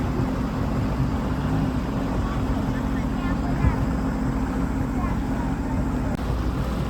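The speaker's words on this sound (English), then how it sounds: "Look, there's jet skis over here." Jet skis, including stand-up models, run on open water near an island, giving a steady low engine drone and water wash that persists throughout, with people talking nearby over the noise.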